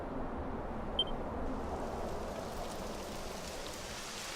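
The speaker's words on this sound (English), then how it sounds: "It would have to go and start raining, wouldn't it?" Rain begins in the video game Dragon Quest XI, a steady soft hiss of falling drops that builds and fills in over a few seconds. A faint short beep sounds near the start.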